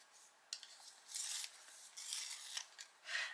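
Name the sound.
sharpening a brown colored pencil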